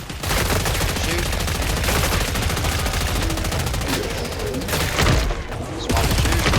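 Rapid, dense gunfire from a video game's weapons in Killing Floor 3, loud and continuous bursts filling the whole stretch with brief shifts as guns are swapped.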